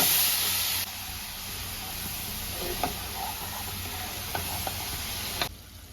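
Spices fry in a pan after a splash of water is added, giving a steady hiss and sizzle throughout. A few soft stirring clinks sound near the middle, and the hiss is loudest in the first second.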